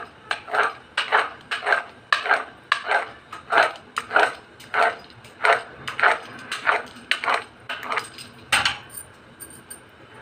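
Rhythmic knife chops through rolled, oiled spinach paratha dough on a board, about fifteen sharp, evenly spaced strikes, close and clear, with no talking.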